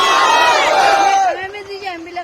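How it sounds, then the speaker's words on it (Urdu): A large crowd at a religious gathering shouts the Nara-e-Takbir slogan in unison, loud and close, the massed voices swelling then tapering off into a softer trailing call. "اسی طرح بھاگ کے طرح نعرہ لگائیے، نعرے تکبیر"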